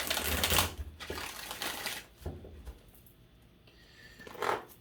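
Two bursts of crisp, riffling tarot card shuffling, close and clear, separated by short pauses and a few quieter taps.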